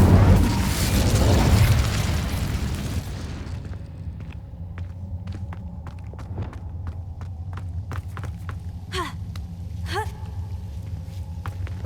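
An Incendio fire spell in Hogwarts Legacy sets off a roaring fiery burst that fades over several seconds into a low rumble, followed by scattered clicks, taps and footsteps.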